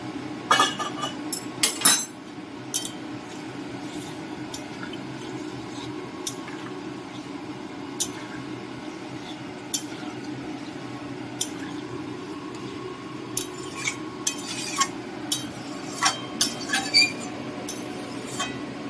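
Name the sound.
metal spatula stirring prawn and potato curry in a pot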